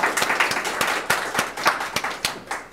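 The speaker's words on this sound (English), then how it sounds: "Let's give our panel a round of applause." Applause from an audience for a panel at a presentation, with distinct individual claps standing out in a loose, fairly sparse rhythm rather than a dense roar, heard close and alone for a few seconds.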